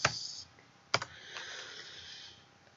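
Computer keyboard clicks close up: a sharp keystroke, then a second strike about a second later, followed by a faint fading rustle, with no talk.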